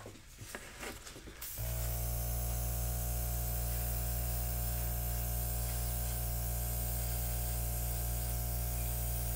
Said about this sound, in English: And we're going to airbrush the edges out.